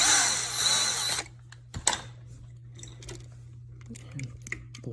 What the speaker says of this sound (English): use the drill to back it most of the way out